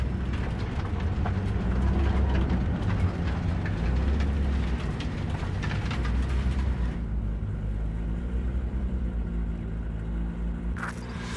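A train rumbles past in Cyberpunk 2077, a heavy continuous roar with rattling, easing into a lower drone in the second half.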